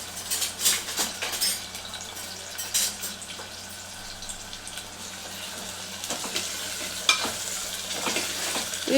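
Onion and green chilli frying in hot oil for a village-style country chicken curry, a close sizzle with irregular stirring scrapes and bumps throughout, no speech.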